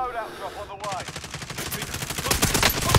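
Rapid automatic gunfire in the video game Warzone, a dense burst of quick shots that grows louder and more intense toward the end, with a voice briefly talking at the start.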